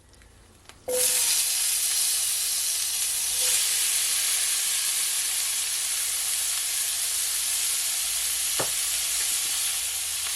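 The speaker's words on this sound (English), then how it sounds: "I'm gonna saute my onion and my garlic and my tomato" Onion, garlic and tomato sauteing in a pot on low heat for Jamaican pepper steak: after a short quiet start, a loud steady sizzle and hiss switches on and continues evenly, close up, with a faint clink midway.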